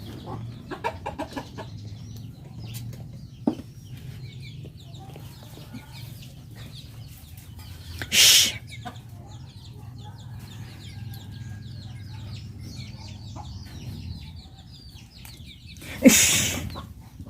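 Native chickens cluck softly in the background, with two sudden loud squawking bursts spaced well apart.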